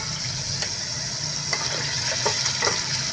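Prawns hit hot oil with turmeric and spices in a pan, giving a steady, close sizzle with a few soft stirring clicks throughout.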